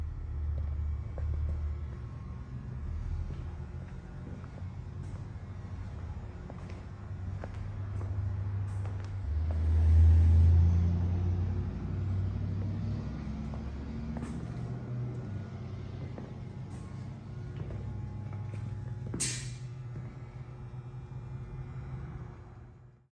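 A 1981 Pontiac Trans Am engine idles steadily with a deep, continuous low rumble, swelling briefly around the middle, running alone without talk.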